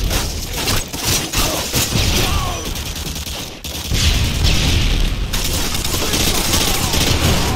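Missile explosions and rapid gunfire in the 2009 shooter Modern Warfare 2, a loud, dense barrage of booms and automatic fire that continues almost without a break, with someone talking over it.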